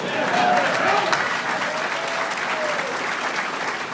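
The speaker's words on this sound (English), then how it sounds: "You gotta clap for that, darn it." Audience clapping at a podcast event: a dense, continuous wash of applause from a crowd, with some cheering voices mixed in.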